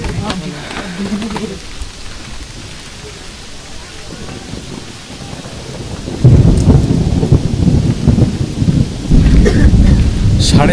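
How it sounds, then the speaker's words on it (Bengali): Thunder rumbles through steady rain on Parasnath hill at about 4,500 feet. A softer wet hiss leads into a deep, loud, rolling boom that carries on for several seconds. "সাড়ে 4000 ফিট উচ্চতায় মেঘের গর্জন।"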